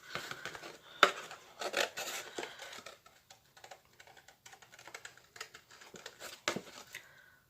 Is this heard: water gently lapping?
no